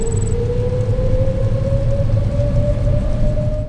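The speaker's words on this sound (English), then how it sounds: "or the spool-up whine of a GE Next Generation engine" Steady jet engine spool-up whine from a GE Next Generation turbofan, a rising tonal pitch held over a continuous loud low rumble throughout, with no voices.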